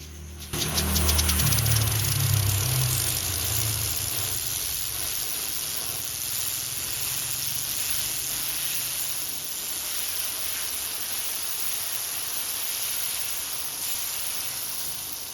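Homemade steam turbine running after its nozzle was moved closer, giving a steady loud hiss of escaping steam with a low rumble at the start, continuous for the whole stretch.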